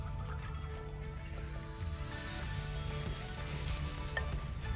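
Char-grilled oysters with butter sizzle steadily on a grill, a continuous close frying hiss with light crackles throughout and no talking.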